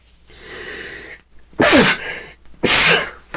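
Two loud, close sneezes come about a second apart, each with a sharp burst, after a quieter breathy intake.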